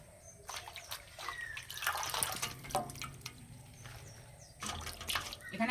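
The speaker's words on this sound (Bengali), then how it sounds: "পাতাগুলো পরিষ্কার করে ধুয়ে নেব। ধুয়ে একটু ভালো করে জলটা ঝরিয়ে নেব।" Water running and dripping while Malabar spinach leaves are washed and drained at a sink, a steady close trickle with splashes and a few louder gushes near the end.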